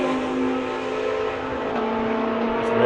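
McLaren MP4 GT race car at a South African GT Racing Association race, its engine holding a steady, loud high-pitched whine throughout, with a slight pitch shift partway through as it drives on track.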